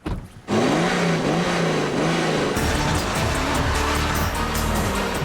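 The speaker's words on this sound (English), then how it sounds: "the petrol car has roared off to an early lead" A BMW 535d diesel and a petrol car accelerate hard from a standing start, with engines roaring loud and close, gear changes shown by rising and falling pitch sweeps, and a sharper, higher engine note taking over partway through.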